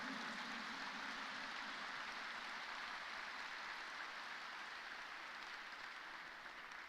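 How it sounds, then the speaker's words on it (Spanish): A church congregation applauding, a steady dense wash of clapping sustained without a break, even and full, tapering only slightly at the very end. "Ese aplauso tiene que escucharse"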